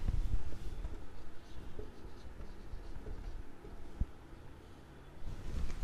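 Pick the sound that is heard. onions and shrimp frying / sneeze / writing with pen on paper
writing with pen on paper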